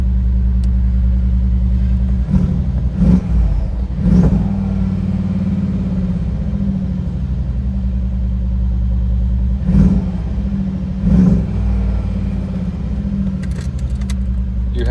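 A warmed-up 2017 Mercedes-Benz G63 idles with a deep, loud, steady rumble, then is revved in several sharp bursts that swell and fall back to idle, heard close up with no talking.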